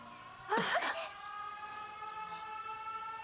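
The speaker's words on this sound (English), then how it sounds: "Air raid alarms have been sounded." Air raid sirens in the video game 13 Sentinels: Aegis Rim hold a steady, layered wailing tone throughout, with a brief louder burst of noise near the start.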